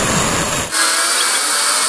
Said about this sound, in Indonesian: Langsung aja bor seperti ini.